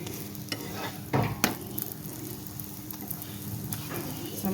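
A paratha frying in oil on a pan, a soft steady sizzle broken by a few sharp clicks and scraping knocks of a spatula, quiet and close, with no talk.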